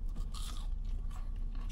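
Crunchy biting into a Burger King Spicy Jalapeño Crispy Chicken Sandwich, a few crisp crackling bites and chewing up close, with no talking.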